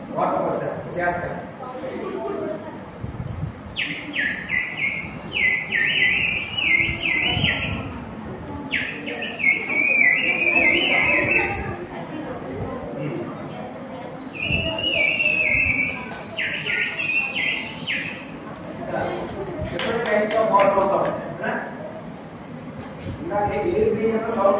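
A water-filled whistle warbles and trills in a school science demonstration, sounding in several bird-like bursts of a few seconds each while people talk in the background.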